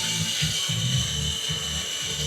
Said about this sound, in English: got his electric chainsaw there